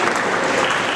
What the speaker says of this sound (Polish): Wielkie brawa, dziękujemy bardzo.